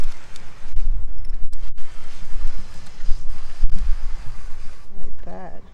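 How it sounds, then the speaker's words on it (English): Steady outdoor wind buffeting the microphone with low rumbling gusts throughout, fairly loud and close, with a brief voice near the end. "like right now with the little wind that we have"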